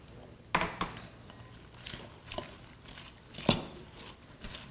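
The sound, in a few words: tossing a salad in a bowl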